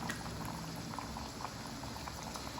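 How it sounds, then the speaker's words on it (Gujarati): Wheat-flour puris frying over low heat in hot oil, a steady close bubbling sizzle that stays even throughout, with no voices. "ધીમા તાપે એને તળવાની."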